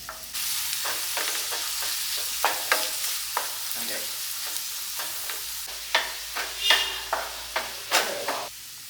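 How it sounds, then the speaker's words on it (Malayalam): Sliced onions and green chillies sautéing in hot coconut oil for a chicken curry, a steady sizzle broken by repeated scraping strokes of a spoon stirring in the pan, close and alone. "നമുക്ക് വലിയ ഉള്ളിയും പച്ചമുളകും നുറുക്കിയത് അതിട്ടിട്ട് നന്നാക്കി വഴറ്റിയെടുക്കാം"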